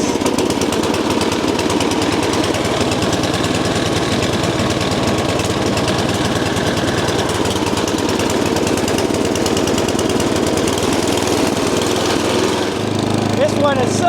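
A gas-powered snow blower engine runs loud and close, a rapid pulsing chug that holds steady, then cuts out abruptly near the end, leaving lower rumble.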